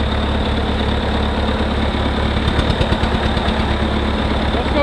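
An old tractor engine runs steadily at idle, a continuous low rumble with a rough, throbbing pulse and faint rattling vibration, close by and alone with no voices.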